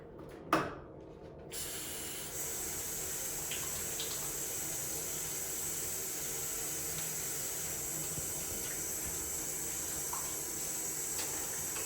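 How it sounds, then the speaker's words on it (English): Steady running tap water splashing into a sink as hands are washed, continuous and close, with a brief knock at the start. "you should always wash your hands with soap and water"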